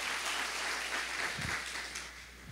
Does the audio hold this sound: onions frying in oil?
no